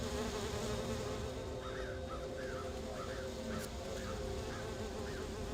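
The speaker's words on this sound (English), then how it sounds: "Samlin's bees." Buzzing bees from the game Sudeki, a steady drone with soft repeated chirping calls over a dense background hum, no speech.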